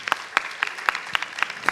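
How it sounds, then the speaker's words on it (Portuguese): At an innovation panel event, hands clap in a steady, even rhythm, seven sharp claps spaced evenly and close by, over quiet room tone. "Palmas para ele, gente"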